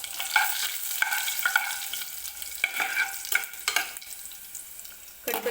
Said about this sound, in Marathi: लसूण हलकासा गोल्डन होईपर्यंत तेलामध्ये आपल्याला भाजून घ्यायचं आहे.